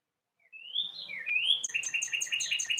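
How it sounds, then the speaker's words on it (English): Birds chirp and tweet nearby, with rising whistled notes followed by quick repeated chirps over a quiet outdoor background. "The birds are wonderful."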